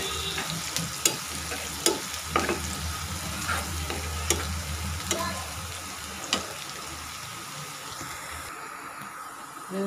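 Sliced onions frying in oil until crisp for a fried onion topping for mashed potato, a steady close sizzle with scattered sharp clicks and crackles, stirred now and then, and the sizzle drops away near the end.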